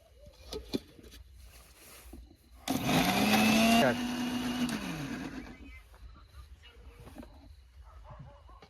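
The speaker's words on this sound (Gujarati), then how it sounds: "તો આપણે મિક્સરમાં નાખી અને આપણે પેસ્ટ બનાવી દઈશું." A kitchen mixer grinder grinds ginger, coriander, green chillies and garlic into a paste. It starts with a loud whirring roar whose motor pitch drops as it slows, runs about two seconds, then trails off under faint background voices.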